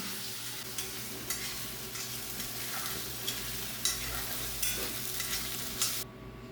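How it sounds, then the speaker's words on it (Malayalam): Chopped big onions sauté in a pan with a steady close sizzle, while a spatula scrapes and stirs in scattered knocks throughout. The frying stops abruptly near the end. "വലിയ ഉള്ളിയും കൂടി അരിഞ്ഞത് അത് നന്നാക്കി ഒന്ന് വഴറ്റാം"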